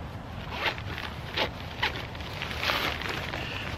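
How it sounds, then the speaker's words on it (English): Zipper on the back pocket of a Marmot Minimalist rain jacket and pants set, opened and closed in several quick, close rasping pulls with pauses between them. "Back zipper pocket."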